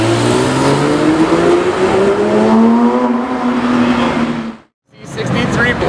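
A Porsche 992 GT3 at a cars and coffee meet sings with a loud, close engine note that climbs steadily in pitch for over four seconds, cuts off abruptly, then bursts back to life.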